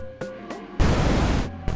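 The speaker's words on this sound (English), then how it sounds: "I think this sounds like pink noise to me" Synthesized pink noise shaped as a snare drum in electronic music production: short hissing bursts, then one longer noise wash, all set over a faint sustained tone.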